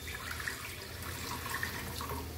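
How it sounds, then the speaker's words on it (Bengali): Water poured into a pan of fried moong dal, a soft continuous splashing trickle that stays fairly faint and steady. "ওই ভাজা ডালটা একটু জল দিলাম"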